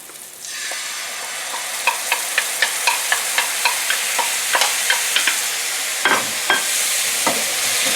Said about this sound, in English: stir it around, it's going to caramelize.